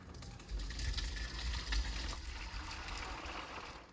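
Hot apple cider poured through wet cheesecloth into a colander set over a big pot, a steady, muffled rushing and trickling of liquid that continues without a break.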